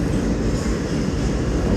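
New York City subway J train rumbling through a large station, a loud, continuous roar of wheels and cars close by with faint rhythmic rail clatter, no speech.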